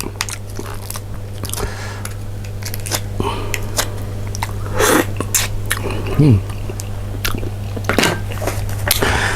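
Someone eating spicy Thai crab roe salad, with close, crunchy bites and wet chewing over a steady low hum, occasionally interrupted by a brief vocal sound.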